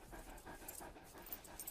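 A small dog pants in quick, rhythmic breaths, soft and close, for a couple of seconds in a quiet indoor scene.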